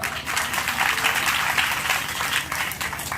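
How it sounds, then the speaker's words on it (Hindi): A crowd at a Ramayana katha gathering breaks into applause for a student receiving an award, a thick, continuous clapping that holds steady across the whole stretch. "सब लोग एक बार ताली बजाओ"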